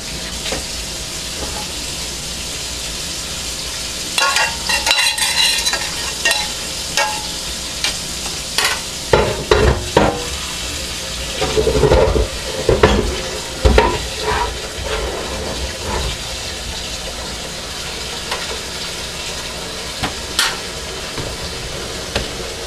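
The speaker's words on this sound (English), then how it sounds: "I'm gonna try and throw the ground beef straight into the" Ground beef fries and gets stirred in a pan for chili, with a steady sizzle under repeated scraping and clattering bursts of a spoon against the pan, close and moderately loud, no voices.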